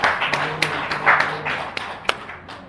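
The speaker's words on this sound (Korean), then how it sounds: "박수로 하나님께 영광 돌리겠습니다" Church congregation clapping during a New Year's Day service: scattered, uneven claps and taps at close range, fairly sparse rather than a full ovation, with some room murmur.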